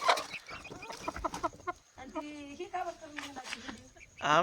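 A rooster clucks and calls close by, mixed with people talking and some background farmyard noise.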